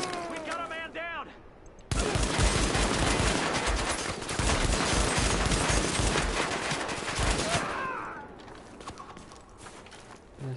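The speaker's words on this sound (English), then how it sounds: "They started shooting on the NPC." Gunfire in Tom Clancy's The Division video game, a dense burst of rapid shots lasting several seconds after a brief quieter opening, then tapering off, with game sounds around it.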